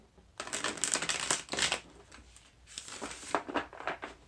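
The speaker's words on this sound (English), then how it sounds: "I am just shuffling up your cards." Cards being shuffled close by, a quick run of crisp riffling and flicking bursts with brief pauses, no talking.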